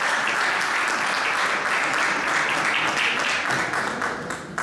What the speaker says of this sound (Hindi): हाथों को जरा आजादी दे, जोरदार ताली